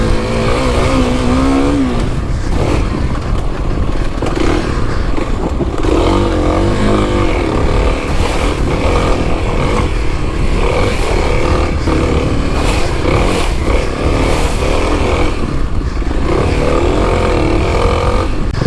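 A 2021 Kawasaki KLX300 dirt bike ridden hard off-road at high speed, its engine revving loudly and continuously up and down through gear changes, close and dominant throughout.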